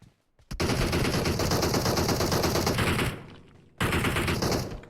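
Automatic gunfire in PUBG Mobile on the Livik map, a loud close burst of rapid shots lasting about two and a half seconds, then a short pause and a second sustained burst, with no talk over it.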